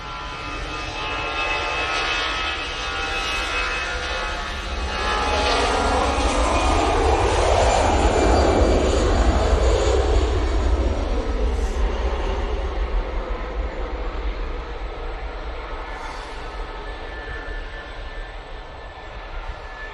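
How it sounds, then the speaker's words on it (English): Aer Lingus Airbus A320 taking off from Manchester Airport for Dublin, a loud sustained jet roar that swells and sweeps with a clear Doppler pass in the middle, then fades slowly, heard alone without talk. "Aer Lingus A320 going back to Dublin now"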